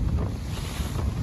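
Strong wind buffets the microphone over choppy waves on the Danube, a dense continuous roar with water slapping close by during a rowing trip.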